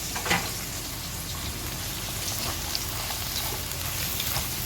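Vegetables and two whole chili peppers being stir-fried in a pan for a Canton noodle dish, giving a steady, close crackling sizzle with scattered small pops throughout.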